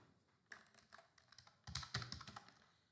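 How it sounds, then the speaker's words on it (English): Keystrokes on a computer keyboard as a terminal command is typed, a sparse few taps at first, then a quicker, louder burst of close clicks with no talking. "I want you to type this command"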